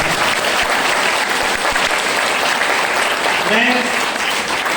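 Loud, sustained applause from a large audience at a motivational speech, a dense even roar of clapping for the full length, with a brief voice rising over it near the end.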